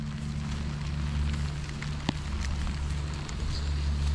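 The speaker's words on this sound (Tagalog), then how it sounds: "Lakas po ng ulan." Steady heavy rain falling on crops roars as a dense, even wash of noise, with a low hum underneath and one brief sharp knock partway through.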